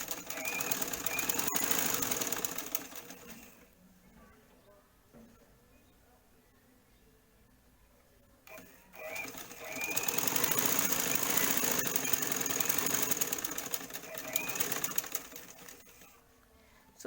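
A sewing machine runs in two bursts of fast, steady stitching on a patch pocket flap, separated by a quieter pause, with light background noise.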